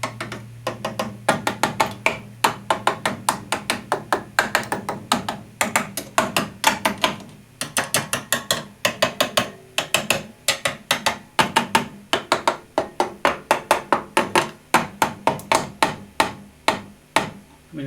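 Dense run of sharp knocks and taps around the circuit board of a Fender Deluxe Reissue amp with a rattle, steady fast rhythm, close and loud, with a low hum underneath.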